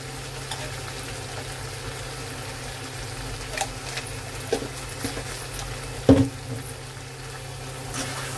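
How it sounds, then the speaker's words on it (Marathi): Masala for a Konkani egg curry sautés in oil with a soft, steady sizzle and frying hiss, punctuated by a few light stirring knocks and scrapes, close and fairly quiet with no talking. "मसाला परतताना थोडंसं तेल सुटेपर्यंत परतायचं"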